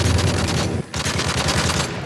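Rapid gunfire in Modern Warfare 3, shots fired through a wall, a dense continuous burst of loud automatic fire running throughout with a brief dip near the middle.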